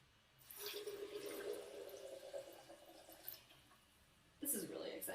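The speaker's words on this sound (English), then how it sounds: "Next on the list is 4 cups of hot, not boiling it says, hot water." Four cups of hot water pour into a blender holding pistachios, a close, steady gurgling stream that eases off and then surges again near the end, quiet and with no one talking.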